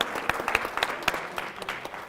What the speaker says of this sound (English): just one more round of applause for these phenomenal